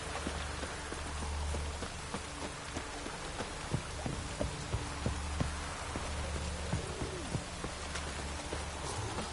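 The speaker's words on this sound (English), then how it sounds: "Looked like it would rain, and here it is." Steady rain in a PS4 video game patters across a surface, dense and continuous, with scattered louder drops and a low rumble underneath; no voices.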